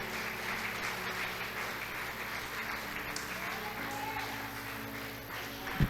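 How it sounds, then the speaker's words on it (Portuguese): Church congregation applauding during a sermon, a steady wash of clapping held at even level throughout, with sustained tonal music or voices running underneath and a brief louder burst at the very end. "aplauda Jesus por isso"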